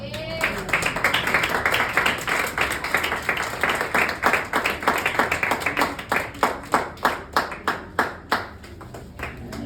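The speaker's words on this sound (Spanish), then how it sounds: "Un aplauso al Señor." A church congregation claps in praise, beginning as dense applause and settling into slower rhythmic claps that gradually thin out, with faint voices underneath.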